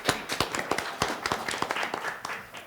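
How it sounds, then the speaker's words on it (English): Audience applause at a school board of education meeting as a presenter comes up, a dense run of many overlapping claps at moderate loudness, steady for the whole stretch with no talking. "we get a pre-presentation applause"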